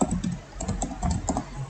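Rapid, irregular clicks of a computer keyboard as MySQL commands are typed into a command prompt, each keystroke a crisp close tap with no talk over it.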